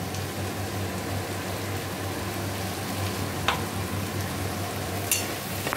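Turmeric and dried chili frying in hot oil as they are stirred together for a Bengali bhola fish bharta, a steady close sizzle with a couple of sharp utensil scrapes against the pan.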